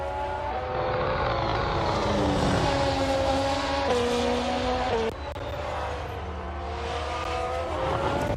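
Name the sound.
Toro Rosso race car tyre lock-up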